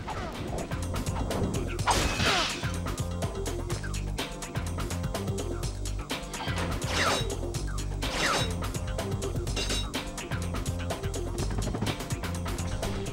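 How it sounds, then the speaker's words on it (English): In the Ratchet & Clank video game, a wrench smashes an object amid dense game audio: repeated whacks, crashes and mechanical clanks over a steady bed of music and effects, with no pauses. "We'll just destroy that one with our wrench."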